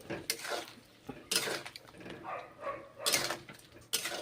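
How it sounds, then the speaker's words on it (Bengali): Vegetable curry being stirred and fried in a metal pan: repeated clattering scrapes and knocks of a spatula against the pan in uneven bursts, close and fairly quiet, with no voices. "কষে নিচ্ছি আবার ভালো করে কষে নিচ্ছি"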